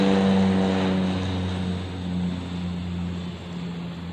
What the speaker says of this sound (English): Let me let this plane pass